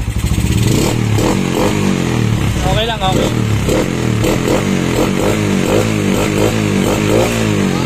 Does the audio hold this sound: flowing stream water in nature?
no